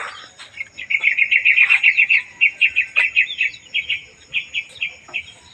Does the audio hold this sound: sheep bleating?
no